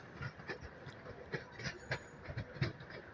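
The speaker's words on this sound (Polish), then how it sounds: "odjechał właśnie pociąg Pendolino relacji Gdynia-Gliwice." A Pendolino train on the Gdynia–Gliwice service pulls out of Katowice station during reconstruction of the Katowice rail junction, its wheels giving a steady run of rhythmic clicks and thumps over the rails at moderate distance, with no voices.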